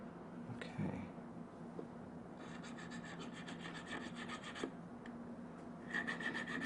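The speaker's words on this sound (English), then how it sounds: "it would be really nice if these surfaces were very smooth, the ones that I'm filing" Hand file rasping across the small metal surfaces of a Japanese-style goldsmith's earring at the bench, a quiet steady scraping with soft rhythmic strokes and a few brief clinks, no talk.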